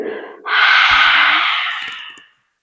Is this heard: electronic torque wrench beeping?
no